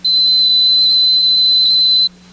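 Steady high-pitched continuity tester tone sounding as its probes bridge a low-value resistor, a single unbroken beep lasting about two seconds over a faint low mains hum, then stopping abruptly.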